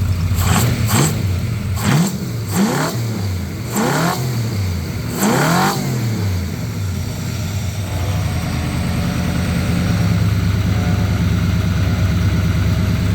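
A 1934 Ford engine with a mild cam gives several quick, loud revs close by, then settles into a steady, slightly hanging idle that runs on alone to the end.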